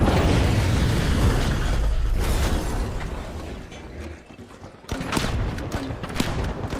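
Grenade launcher explosions in the video game The Finals, a dense run of booming blasts and mechanical clatter, loud and continuous, with a brief lull before further sharp bursts.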